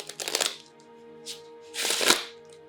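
Tarot cards being shuffled in two quick riffling bursts, crisp and close, separated by a brief pause with a faint hum underneath.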